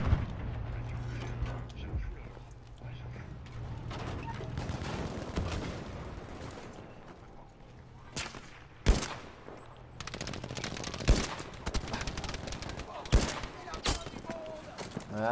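Sniper rifle fire in the video game Battlefield V, with sharp, loud shots cracking out at intervals among other distant gunfire and a low steady drone.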